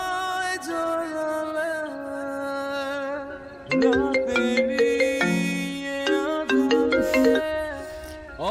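A melodic ringtone plays on, looping its chiming tune over several seconds, with music-like tones filling the clip and no voices.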